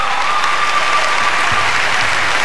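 Applause and cheering from a comedy-festival audience rise together as a loud, dense, steady wash of clapping that holds at full strength from start to finish.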